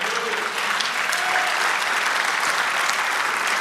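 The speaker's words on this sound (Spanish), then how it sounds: "Denle un aplauso al Señor." A church congregation breaks into steady, dense applause, a continuous wash of many hands clapping with no speech over it.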